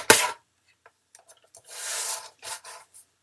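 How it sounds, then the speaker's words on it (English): A paper trimmer slices a thin strip off a card: a sharp click at the start, then a few faint taps and two short rasping sweeps of the blade, close up with no voices. "I am taking a trimmer here and I am going to trim just a little bit"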